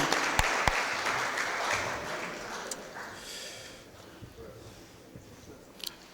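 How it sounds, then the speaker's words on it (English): Applause from the floor of a St. Louis Board of Aldermen meeting honoring police department leadership, a moderately distant roomful of clapping that slowly fades over several seconds with a few sharper claps. "Let's give them a round of applause."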